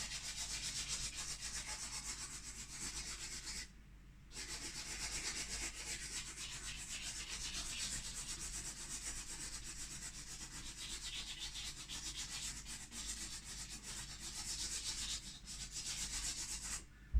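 Charcoal rubbed across paper in short oscillating strokes while a seascape is drawn, a continuous close, soft scratchy hiss with a brief pause partway through, no voices present.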